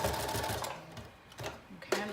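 A sewing machine sews elastic in place along the edge of a mermaid prom dress in short uneven bursts of rapid stitching, close, with brief pauses between runs.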